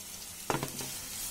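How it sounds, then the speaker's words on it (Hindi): Chopped onion and green chillies hitting hot oil in a pan for fried rice, a sudden short sizzle burst that settles into a steady frying hiss. "अब हम इसमें हमने जो प्याज कट करके रखा था हम लोग ये डाल देंगे और हरी मिर्चें भी डाल देंगे।"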